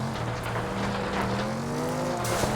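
A racing car engine in the video game FlatOut 2 drones steadily with a rising, shifting pitch, loud and continuous throughout, with a brief tire squeal near the end.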